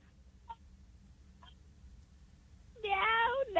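Over a quiet phone line, a person mimics a cat with a loud, drawn-out meow near the end, after two faint, brief vocal sounds earlier.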